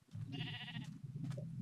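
Sheep in a survival video game gives a loud close bleat with a wavering tone, then a shorter second bleat over a low steady game hum.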